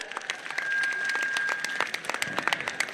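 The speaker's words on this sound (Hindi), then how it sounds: "जोरदार स्वागत, तालियों के साथ स्वागत करें" Crowd at an outdoor public rally clapping to welcome a political figure, a busy patter of hands with sharper individual claps standing out, moderately loud and steady, a thin tone running through.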